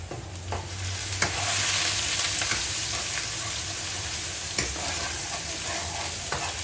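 Vegetables, long beans and eggplant for adobo, go into a pan with browned onion and stir-fry with a steady, fairly loud sizzle, broken by sharp clicks and scrapes of a utensil; no speech.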